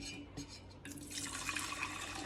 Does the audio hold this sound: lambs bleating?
no